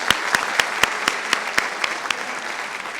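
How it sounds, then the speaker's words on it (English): An audience claps together at a Historically Black Colleges and Universities night event, a loud burst of applause with sharp rhythmic hand claps standing out at first, then thinning toward the end. "give yourselves a round of applause."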